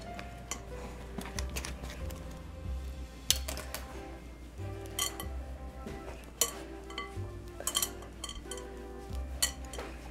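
Chopped butter being mixed into a bowl of flour, sugar and salt for a Danish apple cake, with irregular close clinks and taps of a utensil against the bowl scattered over a steady low background hum.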